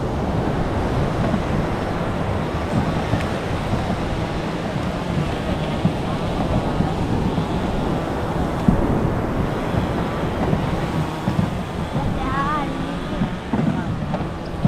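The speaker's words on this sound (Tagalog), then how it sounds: "Hindi mo makakaligo at malalaki ang alon." Big ocean waves roll and wash in a constant loud rumble, with heavy wind buffeting the microphone and a possible boat engine, as voices talk intermittently over the surf.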